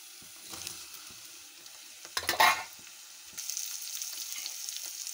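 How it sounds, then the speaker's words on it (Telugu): Onion pieces with capsicum, carrot and curry leaves frying in a pan, a steady low sizzle that surges into a brief, louder hiss as the vegetables go in, then settles into a brighter, continuous crackle. "ఇప్పుడు క్యాప్సికమ్, క్యారెట్, కరివేపాకు వేసేస్తున్నాను. ఉల్లిపాయ ముక్కలు వేగినాయి."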